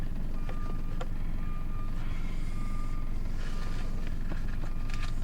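A school bus backs up with a steady series of reversing beeps over loud engine rumble, close and continuous.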